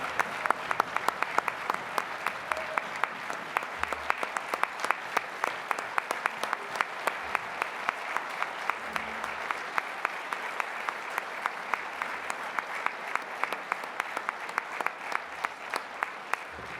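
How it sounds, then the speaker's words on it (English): An audience claps for dancers and drummers at an Indigenous Experiences performance, steady sustained applause that stays moderately distant and even, with a few sharper claps near the start. "one more round of applause for all our dancers and drummers this evening"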